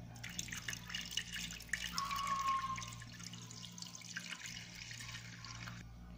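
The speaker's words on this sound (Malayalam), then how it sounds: "പിന്നെ ശകലം വെള്ളം, ഇത്രയും അതിൻ്റെ അകത്ത് ഒഴിക്കണം" Water is poured from a vessel into an open pressure cooker while making Kerala-style sambar, a steady close splashing and trickling that runs for several seconds and then settles.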